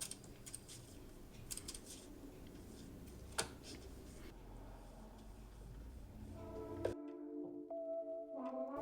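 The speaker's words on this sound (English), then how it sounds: "I love the snippy noises in these videos" Scissors snip flower stems during a flower arrangement: a few sharp, quiet clicks scattered over soft background noise, followed by a few seconds of faint tonal hum.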